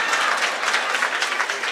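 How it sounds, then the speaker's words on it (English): Audience applause at a graduation ceremony, a steady, fairly loud patter of many hands clapping with no speech over it. "Give that round of applause for that person when he removes the car"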